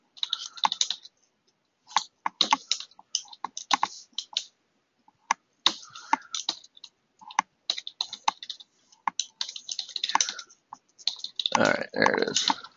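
Bursts of fast typing on a computer keyboard, with dense clicking clusters separated by short pauses and a louder, fuller burst near the end, close and fairly clear.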